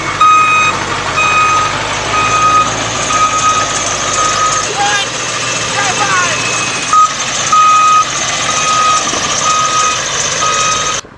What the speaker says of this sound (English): I'm just going to reverse over to there.